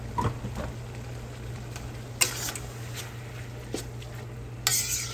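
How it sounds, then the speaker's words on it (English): Beef cooking in a pan under a soft, steady sizzle, with a few scattered scrapes and clinks from stirring and a louder burst near the end, over a low background hum. "Okay, so that beef is cooking."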